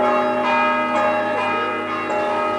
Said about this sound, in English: Boys were ringing up bells, and Mintoff said, ring up bells